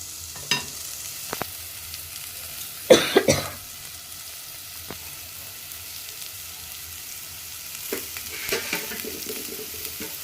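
Semolina upma with turmeric frying in a pan, with a soft low sizzle under a few sharp stirring clatters, loudest around the third second and again near the end, with no talking.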